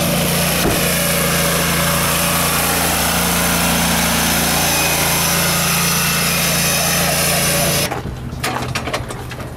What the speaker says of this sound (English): Well, I'm gonna go mow with this thing.